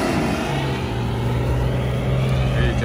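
A diesel off-road car with a 606 engine labours as it pulls away, a steady low drone holding throughout at close range with a constant rumbling rhythm.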